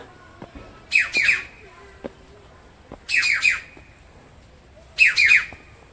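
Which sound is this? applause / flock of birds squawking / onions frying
flock of birds squawking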